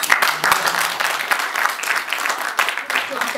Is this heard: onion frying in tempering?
no